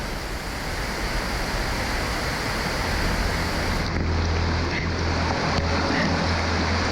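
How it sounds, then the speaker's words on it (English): Rushing underground river water in a cave during a rescue, a loud, steady broadband roar that continues throughout, with a low rumble entering partway through. "We're swimming in the water, and you can feel the pulses."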